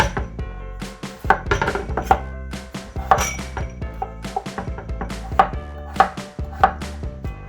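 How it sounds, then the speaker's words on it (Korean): Knife slicing peeled potatoes on a cutting board, a series of crisp, close chops in an uneven rhythm, each ending with a bright clack against the board, no talking. "이거를 제가 감자를 썰어 보겠습니다"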